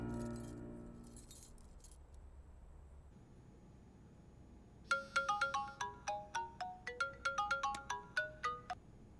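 A telephone ringtone starts about midway, a rapid run of bright electronic tones repeating in a steady pulsing pattern, loud and close, after a stretch of low background hum in a home scene.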